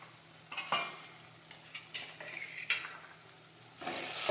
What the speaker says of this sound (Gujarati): હવે આપણે જીરું નાખીશું.